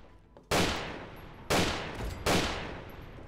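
Three loud, sharp gunshot bursts from Fallout 3 crack out about a second apart, each tailing off quickly into a short echo, with no talking over them.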